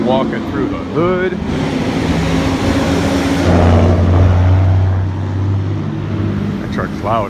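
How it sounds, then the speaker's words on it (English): A loud truck passes on a city street in traffic, rising to a heavy low roar midway and then easing off, close by, with a person talking over the early part. "That truck's loud."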